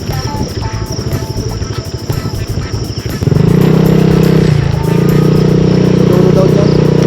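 A motorcycle on a rural road rumbles in partway through, its engine suddenly loud and close with a steady low drone, while insects buzz and voices talk in the background.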